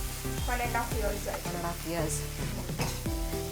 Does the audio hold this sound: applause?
no